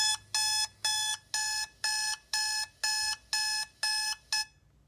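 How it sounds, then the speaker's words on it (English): An alarm clock tone from a sound app beeps in ten even, rapid bursts, loud and close, then stops abruptly, with no talking. "Then you got alarm clock."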